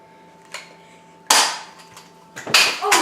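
A fidget spinner bursts apart with sharp cap-gun-like pops: a small snap, then a loud crack and a later double burst, all close and abrupt over a faint steady hum.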